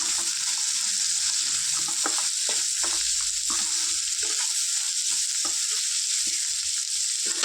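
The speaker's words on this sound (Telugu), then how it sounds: "దొండకాయ మంచిగా వేగినాక అల్లం పప్పు వేసుకున్నాం ఫ్రెండ్స్ ఇది ఒకసారి కలుపుకుందాం" Ivy gourd curry with ginger and lentils sizzles loudly in a pan while a spoon stirs it, making repeated scraping and clacking strokes over a constant hiss, close up with no talk.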